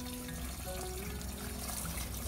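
Wild field greens are rinsed in water at a well beside a vineyard, with a soft continuous trickle and splash that runs through the whole moment at low level and no voices over it.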